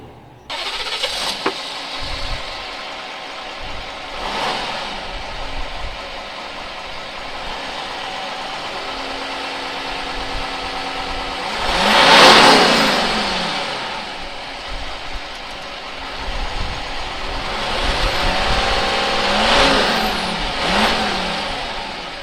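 A 2003 VW Touareg V10 TDI diesel engine idles with a low steady rumble, then revs up sharply several times, each rev swelling and falling back to idle.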